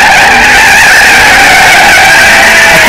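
Ferrari 458 Italia drifting, tires skidding and squealing in a loud, continuous screech with engine roar underneath, very close and saturating.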